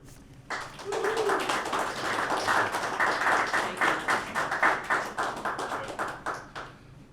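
An audience in a studio bursts into applause welcoming Colonel Meyer, a steady, loud round of many hands clapping that begins abruptly and continues for several seconds before tapering off.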